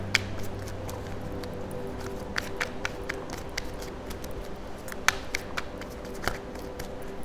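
Tarot cards being shuffled by hand during a reading, with quiet, irregular flicks and soft taps over a faint steady background hum, close and low in level with no talk.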